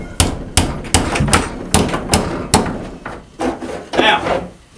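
Sharp hammer-like whacks strike a rod to bend it back about 45 degrees on a goat feeding system, a dozen or so close, loud knocks in an uneven rhythm.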